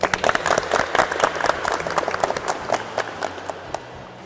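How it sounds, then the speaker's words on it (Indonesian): A small group of vocational school automotive students in a classroom claps enthusiastically, quick uneven hand claps close by that gradually thin out and fade. "Beri tepuk tangan."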